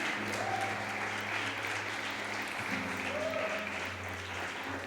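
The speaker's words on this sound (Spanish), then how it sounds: "dale fuerte aplauso al Señor" A church congregation applauds in a steady, sustained round of clapping during a Spanish-language worship service, with a held musical tone underneath.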